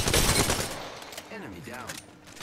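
Enemy gunfire in Apex Legends rattles in a dense burst of rapid shots at the start, then thins out into scattered distant pops while a voice talks over it.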